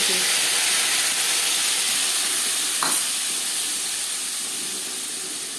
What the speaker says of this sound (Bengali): পনেরো কুড়ি সেকেন্ড জিরে ভেজে নেওয়ার পর দিয়ে দেবো টমেটো